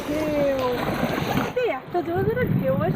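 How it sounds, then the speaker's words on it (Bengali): Waves splash and slap against a fishing boat on a big river in stormy weather, a steady churning wash with a voice talking over the water throughout. "এত জোরে জোরে ঢেউ আসছে"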